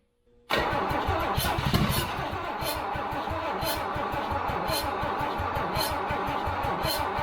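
Toyota Land Cruiser FJ40 with a previously seized engine cranks briefly, then catches and settles into a loud, steady, slightly rough idle up close, with no voices over it.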